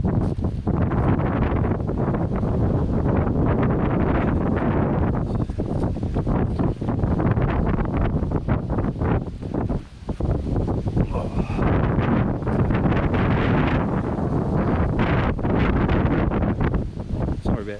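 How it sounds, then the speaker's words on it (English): Strong wind buffeting the microphone on an exposed hillside along a bush track, a loud continuous roar with gusty swells and rustling, no voices. "I'm on the side of the hill with the wind"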